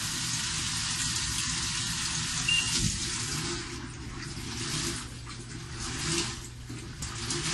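Water rushes steadily through the fill valve of a Harmony washing machine running in factory test mode, a continuous loud hiss and splash with no talk.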